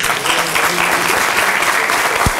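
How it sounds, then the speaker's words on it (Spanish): Studio audience gives a burst of applause, a thick wash of many hands clapping at once, loud and sustained throughout. "un aplauso, jóvenes"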